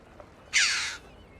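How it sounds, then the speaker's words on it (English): A single harsh, crow-like call from a red-billed chough, one loud raspy caw lasting about half a second, close by over quiet outdoor background hiss. "That's no crow. That's a red-billed chuff."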